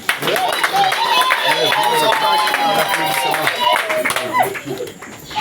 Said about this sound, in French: je vous prie d'applaudir d'abord